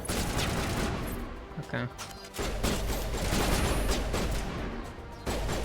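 Rapid bursts of gunfire from a Mass Effect firefight, loud and dense, with repeated shots crowding together, a brief lull around the middle, and a voice speaking briefly over the shooting.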